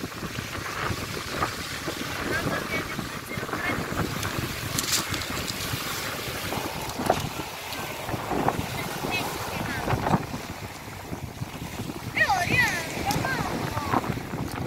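Seaside wind buffets the microphone in a steady, rumbling roar on an overcast, misty day by the sea, with gusts swelling and fading throughout and faint voices in the distance.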